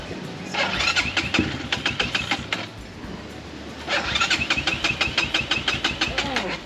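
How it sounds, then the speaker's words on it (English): A motorcycle engine in neutral, cranked and caught in two bursts of rapid firing pulses, each sputtering briefly before stalling, with a quiet gap between, close and fairly loud. "the bike doesn't stay running in neutral"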